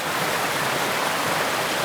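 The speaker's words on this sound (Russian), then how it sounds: "Перехожу ручей за ручьем" A mountain stream in the Siberian taiga flows steadily in a dense, continuous broadband rush of water, close and even throughout, with no voices.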